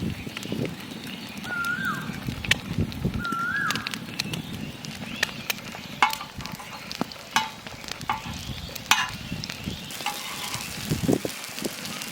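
Egg and potato snacks fry in oil with a steady sizzle, near and fairly loud. Stirring and clinks of a utensil against the pan come in several sharp strokes, and a few brief chirps sound in the background.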